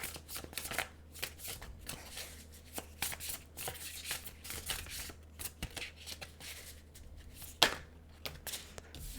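A tarot deck gets shuffled, its cards riffling and slapping together in quick, papery bursts close by, then cards are pulled out, with a faint voice now and then.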